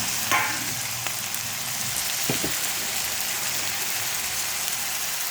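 Drumstick pieces and onions sizzle steadily in a pan for a Telugu drumstick-tomato curry, with tomatoes going in; a continuous close frying hiss carries a few soft clinks and stirring knocks, with no talking.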